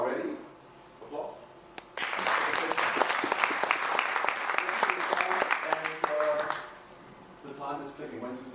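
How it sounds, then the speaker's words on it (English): A conference audience at an SAP InnoJam presentation in Melbourne breaks into loud, dense applause for about five seconds. Someone speaks briefly before and after the clapping. "So again, a little applause, and once you are ready, applause."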